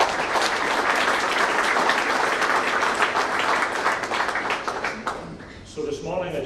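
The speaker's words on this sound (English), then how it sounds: "I want to just ask everyone to give yourselves a round of applause and congratulations." Employees at a company town hall in Hyderabad give sustained, full-room applause that carries steadily for several seconds, then thins and tapers off near the end as a voice begins speaking.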